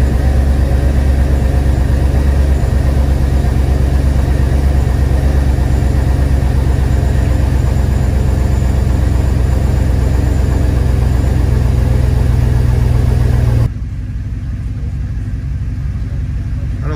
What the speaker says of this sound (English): Let's start the car and see if we're still getting it.